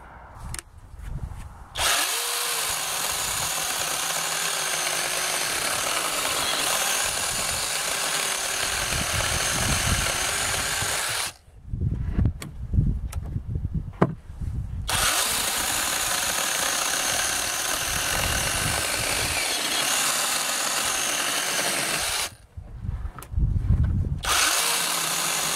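A Rokodil Cutter Pro cordless mini chainsaw with a 700-watt brushless motor and a new chain cuts wood outdoors in three long, steady, loud runs, with short pauses where the motor drops to lower whirring and clatter between cuts.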